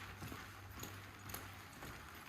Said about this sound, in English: I'm going to ask Tough to pick up the lope